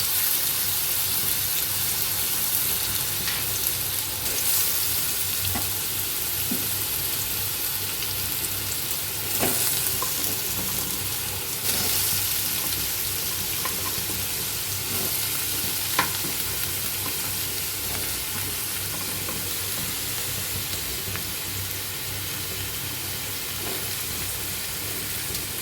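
Boiled elephant foot yam and potato fry in a pan with a loud, continuous sizzle, broken by occasional scrapes and clicks of stirring. No one speaks.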